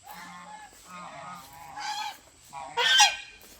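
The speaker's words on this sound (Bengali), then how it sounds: "এই যে এগুলো আমাদের রাজহাঁস," Domestic geese kept on a farm give a string of nasal honks, close by, rising to a louder, harsher burst near the end over an otherwise quiet background.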